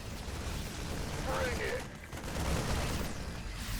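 Marines firing guns in the video game StarCraft II, a dense, continuous rattle of gunfire with booming undertones, loud and sustained, with a voice talking over it.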